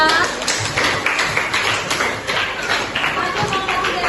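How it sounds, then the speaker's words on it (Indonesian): A classroom of students claps for a group, a brief, dense burst of applause that stays loud and fairly even for about four seconds. "Oke, silakan tepuk tangan para kelompok 2."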